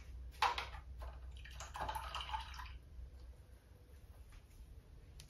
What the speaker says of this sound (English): I've rinsed my brush out